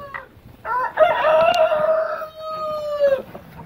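A rooster crows once in a long drawn-out call among farm chickens waiting to be fed, preceded and followed by short clucks, close and clear against a quiet background.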